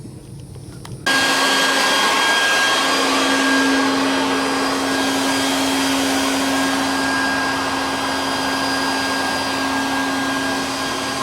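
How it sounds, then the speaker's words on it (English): After a brief quiet moment, a vacuum cleaner switches on and runs with a loud, steady whine and airy rush that continues unbroken as it sucks air from behind an above-ground pool liner. "use the vacuum cleaner on that hole to suck the air out of it"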